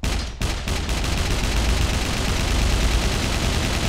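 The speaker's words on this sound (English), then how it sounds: "I hear the robot just laying down cover fire." Robots in the video game SCUM lay down rapid automatic gunfire, a dense barrage of sharp bursts that starts after a couple of opening shots and keeps hammering continuously.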